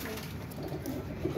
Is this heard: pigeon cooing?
yes